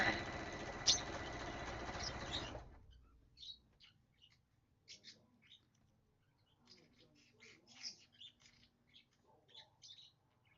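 A pet bird gives faint, scattered chirps and short tweets after a loud burst of broadband noise at the start, with quiet room sounds in between.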